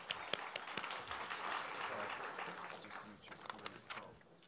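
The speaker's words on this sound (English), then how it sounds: "Can we give them a round of applause," An audience gives a moderate round of applause, with scattered individual claps standing out early and late and the clapping fading toward the end.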